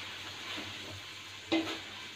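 Onions soften with a pinch of sugar in a pan, a faint, steady low sizzle with a single sharp utensil clink partway through, no voices.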